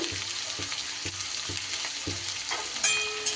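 About 300 grams of chopped onions frying in oil for an old-style mutton curry, a soft steady sizzle with regular stirring knocks roughly every half second, then a short clink near the end.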